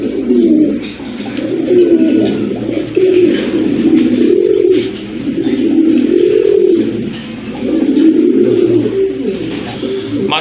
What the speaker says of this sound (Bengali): মাশাআল্লাহ এখানে কিন্তু 2 পিস কবুতর আছে।